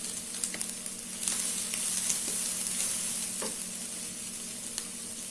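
Sautéed onions with ginger garlic paste sizzle steadily in a pan, a continuous close frying hiss with occasional faint stirring clinks and no talk.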